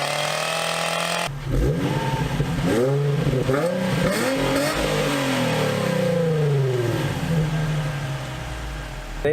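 A Nissan 350Z on its stock exhaust revs up several times in quick, rising and falling sweeps after a quiet idle, loud and close, then settles back toward idle.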